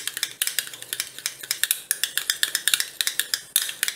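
Egg white and fenugreek are whisked in a bowl with a utensil, producing a fast, steady run of close, bright clicking strokes against the bowl that repeats without pause.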